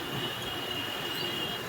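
A steady, low rumble with a high whine of a metro train running along its tracks at Nampally, Hyderabad, continuous and moderately distant.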